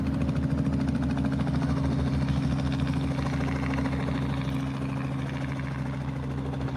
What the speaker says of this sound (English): the R-44 is just waiting to cross the runway